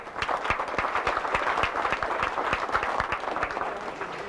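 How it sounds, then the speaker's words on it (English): A Republican dinner audience filling a banquet room gives a steady round of hand clapping, moderately loud and sustained throughout. "You people deserve a great round of applause to yourselves for filling this room here tonight."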